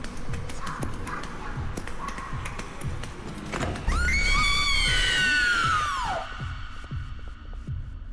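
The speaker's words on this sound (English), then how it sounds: "Did you really need to do that really loud, piercing scream?" A loud, piercing scream in the horror game White Day 2 rises and bends downward over a few seconds, cutting through a low throbbing, humming ambience that carries on before and after it.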